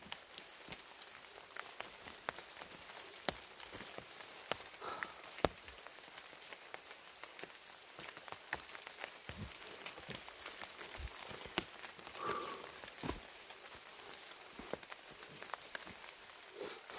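Steady rain falls on a rainy day at a bark-roofed house in Samcheok, a continuous patter with scattered sharper drips and taps, close and even throughout, with no talking.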